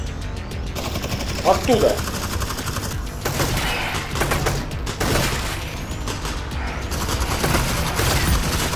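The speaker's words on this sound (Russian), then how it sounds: "Там пулеметчик." Bursts of machine gun fire in the Half-Life: Alyx video game, loud, close and repeated in rapid volleys, with someone speaking over the shooting.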